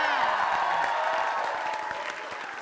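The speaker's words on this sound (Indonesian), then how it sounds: "Kita tepuk tangan dulu dong buat Padat Padat Karya." A studio audience claps for Padat Karya on a comedy show, with steady, fairly close applause that thins slightly over a couple of seconds while a sustained musical tone lingers underneath.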